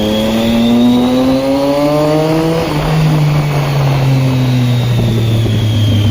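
A motorbike ridden at speed on an open road at night, its engine droning steadily loud and close with rising and falling pitch as it shifts through gears, a constant rush of wind over it, no talking.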